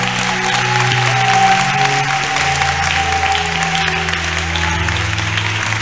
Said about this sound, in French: Est-ce que quelqu'un peut applaudir?